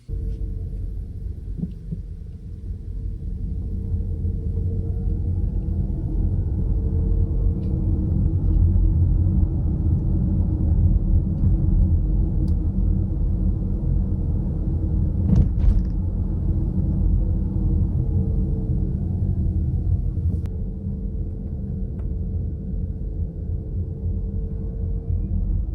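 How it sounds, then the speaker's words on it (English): Inside a Ford Mustang Mach-E electric car while driving, a steady low road rumble carries a faint rising and falling electric motor whir and whine, continuous throughout with no talking. "In this take, you'll hear more of that electric motor and whir and whine that I've been talking about."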